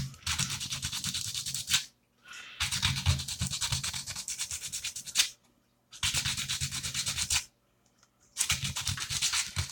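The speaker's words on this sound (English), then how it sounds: "I'm going to use some sandpaper. First, I'm going to start off with some rough grit." Rough-grit sandpaper rubs over a piece for a lightsaber build in four long, close bursts of scratchy back-and-forth strokes, each separated by a short pause.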